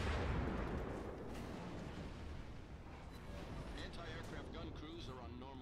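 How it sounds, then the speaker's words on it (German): Ship guns of the St. Louis firing in World of Warships, a low booming roar that starts strong and settles into a steady rumbling wash, with someone speaking German over it. "St. Louis ist natürlich fleißig am Schießen, ohne Frage."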